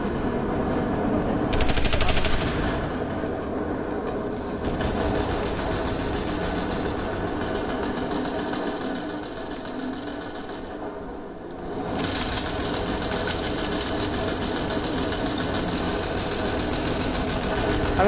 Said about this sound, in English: I'm in a tank, bro.